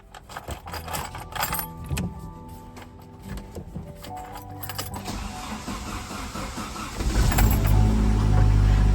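A Saab 900 Turbo, stored for six months, is started: keys jangle close by, then the engine cranks and catches near the end into a loud, steady running rumble.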